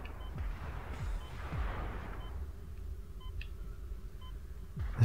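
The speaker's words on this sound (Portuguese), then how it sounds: "Mas tem um bicho atirando em mim, hein?" Creature in the video game Dead Space 2 firing at the player: repeated sharp low thumps and short crackling bursts, fairly close, with a few thin electronic beeps near the end and no talk.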